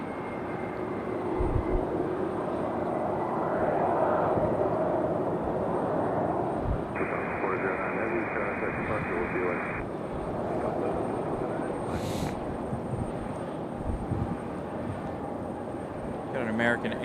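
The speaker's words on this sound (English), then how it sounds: "Arrival is Southwest coming in from Baltimore." A Southwest Airlines jet arriving from Baltimore at Raleigh-Durham airport, its engine roar a steady, moderately distant drone holding throughout, with a faint tonal whine partway through.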